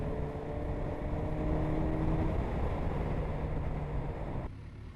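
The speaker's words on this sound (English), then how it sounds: "You saw how tractable and versatile that 1043cc inline 4 cylinder engine is" A Kawasaki Versys 1000's 1043cc inline-four pulls steadily in 6th gear from low to high speed, a continuous loud engine drone mixed with wind rush that eases slightly at the end.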